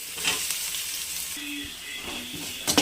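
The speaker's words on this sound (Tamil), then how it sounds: "எண்ணெய் காஞ்சதும் வடகம், பூண்டு, வெங்காயம், கருவேப்பிலை," Garlic, onion, curry leaves, vadagam and tomato frying in hot oil for a fish curry, a steady close sizzle with a few stirring knocks and clatters, no talk.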